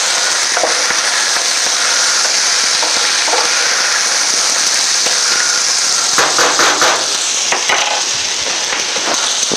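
Snow peas stir-frying with chicken in a hot pan give a loud, dense, continuous sizzle, with sharper crackles and spatter toward the end and no voices.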